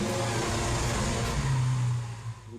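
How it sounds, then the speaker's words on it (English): Lamborghini Aventador V12 engine revving hard through its exhaust, a loud, steady roar close by with a low droning tone that swells then drops slightly near the end. "The V12 motor represents what for us is the sound, the music of the car"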